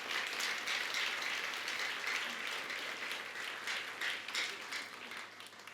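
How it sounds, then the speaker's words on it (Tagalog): A congregation at a church service applauds in praise, a dense, continuous wash of many hands clapping at steady volume throughout. "Huwag tayong manghinayang na pumalakpak"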